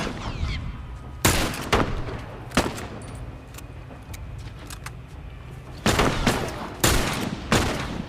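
Gunfire in The Last of Us, several loud sharp shots spaced irregularly over the clip, with quieter game ambience and faint clatter between them.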